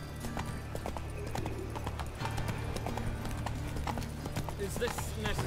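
Geralt's horse Roach from the video game Witcher 3 galloping, a rapid rhythmic clip-clop of hooves under game voice dialogue.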